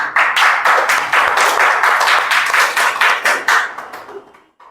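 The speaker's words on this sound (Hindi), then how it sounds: "जोरदार तालियों से इनका स्वागत करिए।" A classroom group of students at a weekly mock-test event claps in brisk applause, many hands beating rapidly and loudly for several seconds before tapering off at the end.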